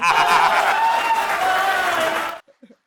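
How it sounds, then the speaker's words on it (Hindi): A large hall audience at a Hindi comedy poetry show bursts into loud, sustained applause with cheering, with a voice carrying over it. The sound cuts off abruptly near the end, leaving a few faint stray sounds. "एक बार दोनों हाथ खोल के जोरदार तालियां बजाइएगा"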